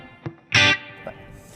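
Epiphone Jimi Hendrix Flying V electric guitar playing a crunch tone through a Marshall amp: a light pick tap, then a single strummed chord that rings briefly and fades.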